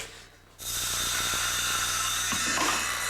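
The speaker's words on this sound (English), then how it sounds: "Even so, her husband wants her to use the power saw." A power saw is triggered on a handyman renovation job and runs at a loud, steady whine. It starts abruptly after a brief quiet moment and holds a sustained, harsh drone to the end, with no talk over it.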